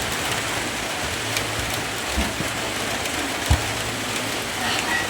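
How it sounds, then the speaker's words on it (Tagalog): Steady rain falls throughout under a darkening sky, a dense even hiss with a brief soft thump partway through and no voices. "Usog ni nga ulan kay nagngit-ngit ang palibot."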